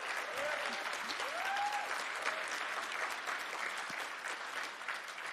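Audience applause at a labor union panel discussion, a steady wash of many hands clapping in a room, moderately distant and sustained for several seconds with faint crowd murmur.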